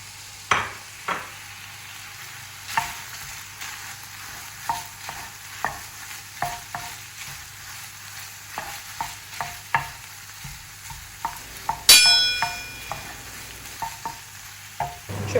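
Quiet frying sizzle of minced meat with carrots, onions and garlic in a pan, with repeated scraping and clinking of a utensil stirring, irregular taps over a low steady hiss.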